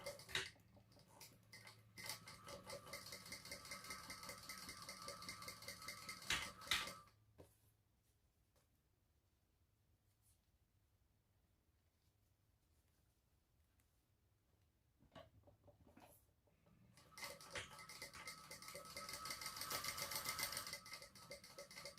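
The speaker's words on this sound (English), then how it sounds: "Now I'm going to top stitch on both sides of them." A sewing machine topstitches fabric bag loops, running in a steady whirring burst, pausing for several quiet seconds, then starting up again and running louder.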